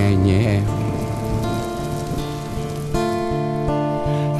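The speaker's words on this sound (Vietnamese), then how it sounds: "mưa quá em ơi" Rain falls in a steady, dense hiss, heard beneath loud music with sustained tones.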